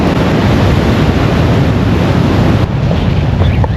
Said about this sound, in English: Those are extremely violent waves.